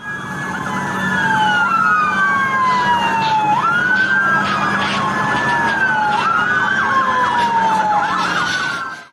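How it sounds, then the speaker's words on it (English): Wailing police car sirens sweep up and down continuously, loud and close, with overlapping tones as several police cars chase a speeding sedan. "sirens blaring and various police cars attempting to stop the speeding sedan"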